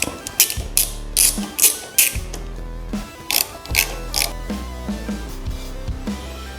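Hand ratchet loosening the brake caliper bolts on a motorcycle's front wheel, loud close bursts of rapid clicking in short repeated strokes with brief pauses between, no talking.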